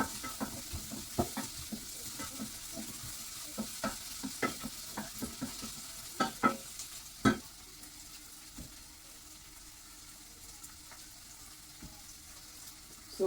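Onions frying in a pan on a home stove, stirred now and then: a continuous soft sizzle with repeated sharp scraping clicks of the utensil, which fade out later as the pan settles into a quiet hiss.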